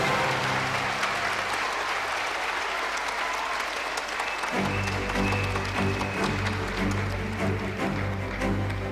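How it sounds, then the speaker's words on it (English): Audience applause for the doctors of KMC Hospital, Ambedkar Circle, at a 25th-anniversary celebration, a steady dense wash of clapping throughout that grows fuller and heavier about halfway through, with a low hum or music beneath. "a huge round of applause to the topmost doctors of KMC Hospital"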